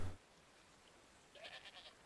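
Goats bleating from a trader's goat herd in the game Dawn of Man, a few faint, short bleats clustered near the end after a brief thump at the start, otherwise quiet.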